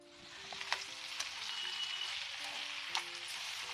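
Curry leaves and asafoetida sizzle in hot oil for an ivy gourd and potato fry, with a steady frying hiss and a few sharp crackles and pops over a faint low hum.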